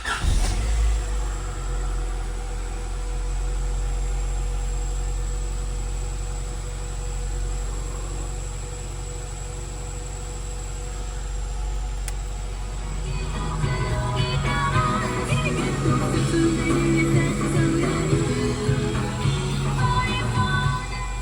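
An imported JDM car engine runs on its stock exhaust, idling with a steady low hum that turns rougher and louder in the later part as it revs. The exhaust stays fairly quiet and close, with no talk.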